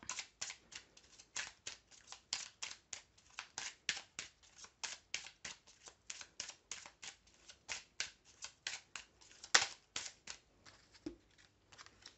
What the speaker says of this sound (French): je tire encore trois cartes